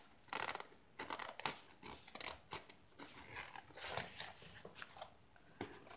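Scissors snip and cut through material while storing a completed diamond painting in an art portfolio, a quiet, close series of irregular crisp cuts with rustling between them.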